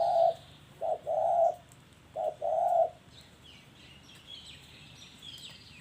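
A spotted dove gives a series of soft, low coos in short paired phrases, then falls quiet while faint chirps continue in the background.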